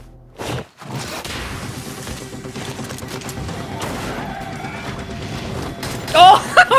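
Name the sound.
shotgun gunfire in a music concept film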